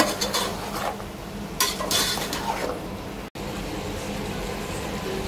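Mushrooms and vegetables being mixed in a pan for mushroom pulao: a spoon scrapes and clinks against the metal pan in uneven bursts over a faint sizzle, close by, with a brief silent gap partway through.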